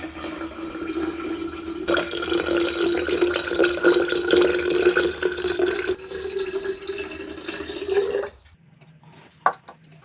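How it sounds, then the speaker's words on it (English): 500 milliliters of hot water pours steadily into a bottle for several seconds, the pitch of the stream climbing as it fills, then stops, followed by a faint clink. "I'm now going to add in 500 milliliters of hot water."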